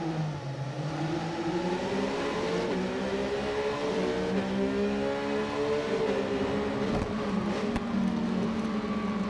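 The engine of a Triumph Street Triple RS motorcycle in the racing game Ride 4 whines and revs steadily, its pitch rising and dipping through gear changes at constant loudness, alone without talk.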